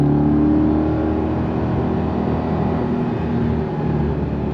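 Chevrolet C8 Corvette E-Ray, an AWD hybrid sports car, pulling hard in second gear on throttle: a loud, steady engine roar with rising harmonic tones, close and continuous with no talk.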